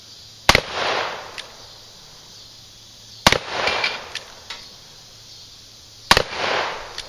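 Three sharp .357 Magnum shots from a Ruger GP100 revolver ring out about three seconds apart outdoors, each loud crack followed by a rolling echo, with quiet between them.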